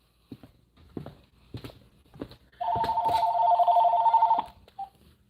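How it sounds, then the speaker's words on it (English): A telephone rings in a toy shop, a steady electronic warble lasting almost two seconds, loud and close, after several soft knocks and brief voice fragments. "Whoa, the phone's ringing."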